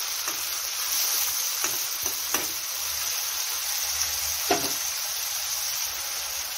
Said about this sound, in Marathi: छान असं फ्राय करून घेऊया